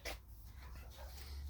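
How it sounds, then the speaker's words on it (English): A dog just behind the listener lets out a brief, close whine or whimper over low background rumble, lasting only a moment. "There's a dog behind me."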